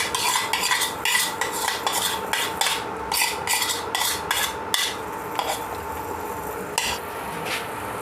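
A spoon stirs a mixture of egg yolk and mayonnaise into a pot of homemade Korean ramen, producing quick, repeated clinking and scraping against the pot. The strokes are close and busy at first, then slow and grow sparser, with no speech.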